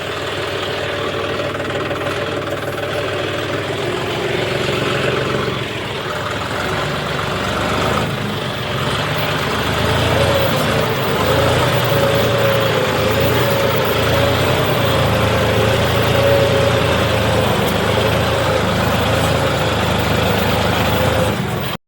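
Tractor engine running steadily beside a ploughed field near a canal, a loud continuous drone with a faint knocking texture and a brief tonal whine in the middle, no talk.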